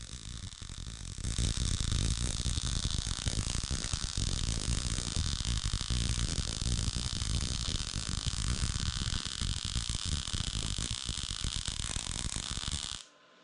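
PrimeWeld MIG 285 welder running a bead at -10 inductance, giving a steady, loud crackling buzz that holds close and continuous for about eleven seconds before cutting off, with no talking.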